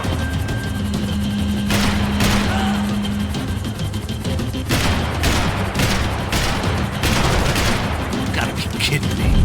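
Rapid bursts of gunfire from the action shooter Max Payne 3 crack out close and loud, repeated volleys and machine-gun rattles layered with explosions and a helicopter-like drone, voices shouting in between.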